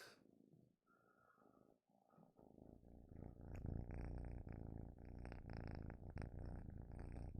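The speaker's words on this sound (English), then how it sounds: "He purrs so loud." A cat purrs loudly and close up, a rough continuous rumble that starts quiet and soft and then swells into a strong, steady vibrating drone with some faint snuffling breaths mixed in.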